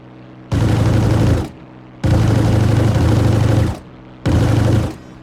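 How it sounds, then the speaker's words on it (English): Aircraft cannons firing from the cockpit in ARMA 3's Spearhead 1944 setting: three loud sustained bursts of rapid, heavy gunfire, each about a second long and separated by short pauses with a low engine drone. "it almost feels like I'm firing kind of like slow auto cannons inside the cockpit"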